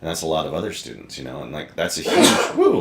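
Someone sneezes sharply once near the start, then people keep talking in a casual conversation about the path to black belt in martial arts.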